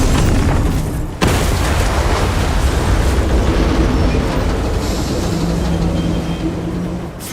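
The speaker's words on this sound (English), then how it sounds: "All Hell Cannons destroyed." Huge explosions rip through Hell Cannon turrets in the game Doom: The Dark Ages. A loud, continuous rumbling roar follows a sharp blast about a second in and carries on heavily throughout, with no talking.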